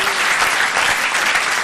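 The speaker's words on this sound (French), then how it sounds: "Applaudissez très fort pour lui." An audience in Matadi applauds performer Jack Hanel, a dense, loud, even wash of many hands clapping together with no pause.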